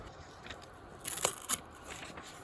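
Someone chewing crunchy food inside a camper van during a camping trip: a few quiet, close crunching bites clustered together midway through, over soft background hiss and without speech.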